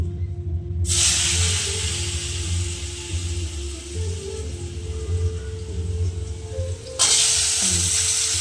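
Oil and nigella seeds sizzle loudly and steadily in a kadai as washed potatoes go in, with the hissing dropping briefly at first and surging again near the end over a low background hum.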